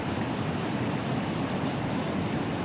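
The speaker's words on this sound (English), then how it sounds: "this waterfall cascades down a granite cliff in a wide swath of rich white." A tall waterfall fed by the Merced River in Yosemite cascades down a granite cliff, producing a steady, broad rushing roar of water with no breaks or voices.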